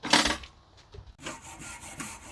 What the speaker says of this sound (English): just cleaning off the grate